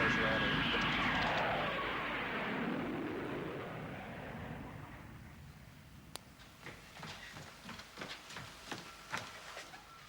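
Aircraft engine running as a plane prepares for takeoff, a loud roar fading over the first seconds, then quieter rumble with scattered clicks and bursts.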